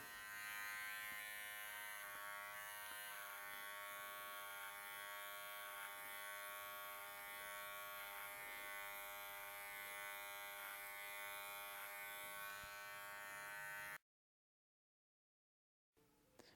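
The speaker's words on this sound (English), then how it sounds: "I'll be using my cordless magic clip for the fade" A cordless Wahl Magic Clip hair clipper buzzes steadily and close while cutting a fade, its even motor hum running unbroken before cutting off abruptly near the end.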